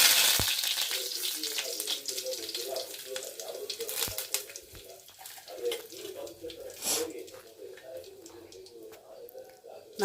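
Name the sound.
mustard seeds spluttering in hot oil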